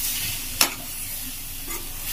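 Chickpeas and onions for chola do pyaza frying in a kadhai, a continuous close sizzle with one sharp scrape of a spoon partway through and a fainter stir near the end.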